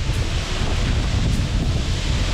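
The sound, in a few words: Rainbow Falls waterfall rushing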